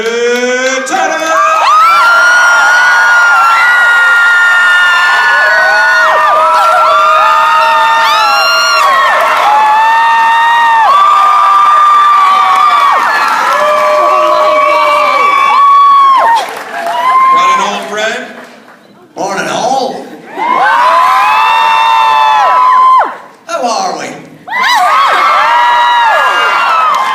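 An excited convention crowd at Wizard World Comic Con Raleigh 2015 cheers, whoops and yells for David Tennant, loud and sustained with several brief dips.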